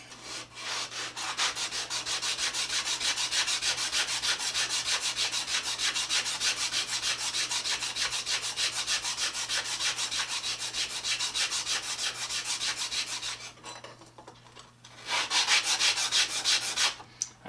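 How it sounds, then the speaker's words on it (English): Rusty blade from a Defiance No. 3 hand plane rubbed back and forth on sandpaper: a fast, steady rasping scrub that continues for about thirteen seconds, pauses briefly, then resumes, close and loud, with no talking. "So I'm just going to run that over this sandpaper"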